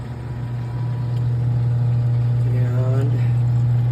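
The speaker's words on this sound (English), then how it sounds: "So once it empties completely, it will stop. The motor will stop turning." Utilitub drain pump motor runs steadily while the utility tub empties, a constant low hum close by, with a person talking over it.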